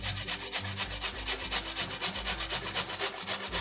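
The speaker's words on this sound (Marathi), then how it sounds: "आता आपण हे बीट किसून घेणार आहोत" Boiled beetroot is rubbed against a metal kitchen grater in quick, even back-and-forth strokes, a close, rhythmic rasping scrape repeating about three times per second with no talking.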